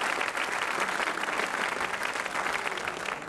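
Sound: audience applause for candidates

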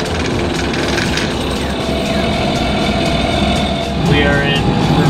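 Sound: sailboat engine going to full throttle in reverse

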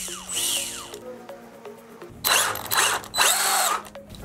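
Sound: RC car motor spinning with loose pinion gear

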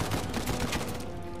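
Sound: gunfire in the video game Uncharted 4

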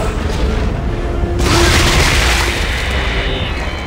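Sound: explosion blowing up necromorphs in Dead Space 3 video game

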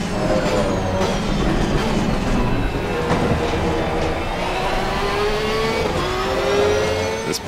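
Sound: Porsche race car engine in Assetto Corsa Competizione video game

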